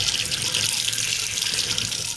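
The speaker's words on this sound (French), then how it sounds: "ce robinet il est tout pété en fait" Water gushing from a broken faucet, a loud, steady hiss of running water close by, continuous throughout with no talk.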